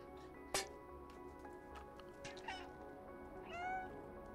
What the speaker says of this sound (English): Will you come outside if I meow enough?